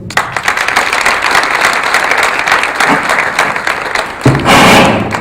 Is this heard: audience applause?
yes